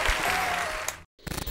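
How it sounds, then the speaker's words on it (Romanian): Studio audience applause on a Romanian podcast set, a dense clatter of many hands filling the first second, breaking off into a brief silence, then resuming with scattered louder claps. "Aplauze, Ciucă!"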